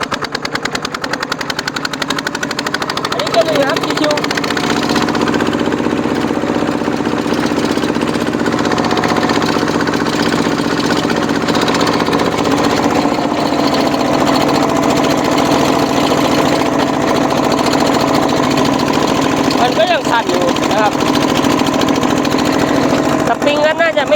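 Modified tractor engine with a rotary tiller running in gear, a loud, continuous, rough rattling drone close by with a slight shift in pitch partway through.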